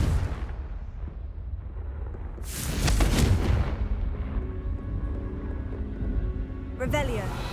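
A Confringo fire spell blasting in Hogwarts Legacy: one loud roaring burst in the middle that lasts about a second, rising above a low ambient bed, followed by quieter rumble and a brief bright flutter near the end.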